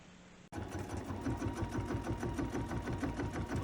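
An edge-to-edge quilting machine stitches steadily through a quilt, its rapid, even needle rhythm starting abruptly after a short pause and running loud and close without a break.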